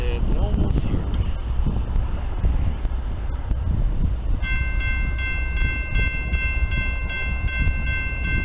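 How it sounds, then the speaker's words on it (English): A westbound BNSF coal train led by three GEVO locomotives approaches along a mainline by the Columbia River, a loud rumbling roar with steady tonal whine and sharp metallic squeals rising over it. "there is a train approaching us, and it's gonna get here pretty soon"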